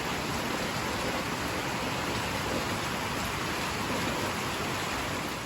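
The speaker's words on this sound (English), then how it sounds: "We are getting blessed with some rain right now, some much needed rain." Rain falling on a goat pasture farm, a steady, dense hiss that stays even and unbroken throughout.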